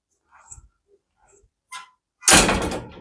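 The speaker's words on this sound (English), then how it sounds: "When we are less than 90, then it's going to close itself." An auto-closing, pressure-mounted, extra tall pet gate door swings shut on its own. A few faint light taps come first, then one loud, close latching clack that rings briefly.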